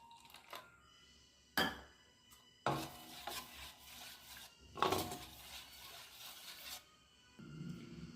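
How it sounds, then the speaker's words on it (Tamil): Carrot and cardamom batter being mixed in a bowl for carrot kinnathappam, heard as soft intermittent scraping and stirring strokes with a few sharper bursts, close and fairly quiet. "இதை நம்ம கலந்து அதை நல்லா மிக்ஸ் பண்ணணும்"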